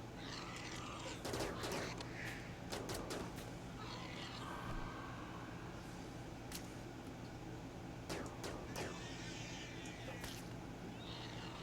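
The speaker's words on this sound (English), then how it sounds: "Oh, he's shooting at me." Gunfire in the Rimworld video game: several sharp shots and short bursts at scattered intervals over a steady low background hum.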